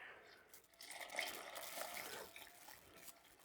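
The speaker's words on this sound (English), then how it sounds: "top it up with water till it just hits the top of the beef and veg" Water pours into a pot of beef and vegetables for a red wine stew, a soft continuous splashing trickle heard close and quiet, swelling slightly in the middle before tapering off.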